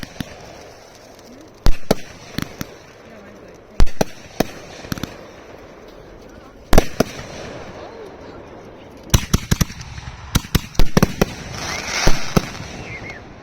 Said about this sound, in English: It's always a great time to go out and light fireworks